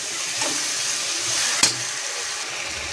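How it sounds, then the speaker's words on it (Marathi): Brinjal and potato pieces fry in oil in a pan, giving a continuous close sizzle with a few scraping stirs and a single sharp clack partway through. "वांगी आणि बटाटे, 1 वांगी घेतलेले आहे, 2 बटाटे घेतलेले आहेत, हे टाकून देऊया. कांद्याचे हलवून घेऊया."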